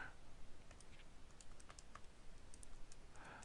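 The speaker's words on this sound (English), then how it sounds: "So I'm just going to do this real quickly on my calculator here." Buttons pressed on a handheld calculator, a quick run of faint, light plastic clicks in an irregular rhythm against quiet background hiss.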